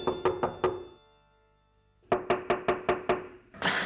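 Knuckles knocking on a door in two sharp bursts: four quick raps, a pause, then six more evenly spaced knocks, loud and close, with no talking.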